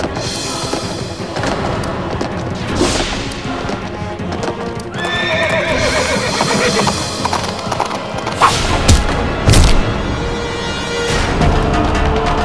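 Loud, close horse hooves clip-clopping steadily, with repeated neighing and whinnying over about twelve seconds, no talk.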